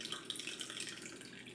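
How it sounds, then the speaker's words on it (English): Water poured steadily into a measuring cup while making sourdough, a continuous close splashing trickle that runs for the whole moment. "So we're gonna do 2 cups of water"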